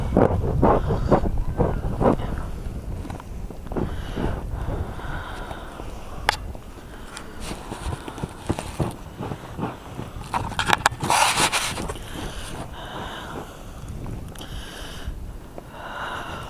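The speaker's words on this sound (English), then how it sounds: "The wind." Strong gusts of wind in a snow blizzard in Glen Burnie, Maryland, buffeting the microphone with loud, rumbling roars that swell and ease, accompanied by a few breathy exhales and rustles.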